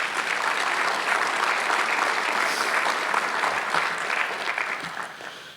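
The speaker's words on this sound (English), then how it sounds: "Let's give the NIAC people a nice round of applause" Dense audience applause at a career center ceremony, many hands clapping in a steady, close wash that tapers off slightly near the end.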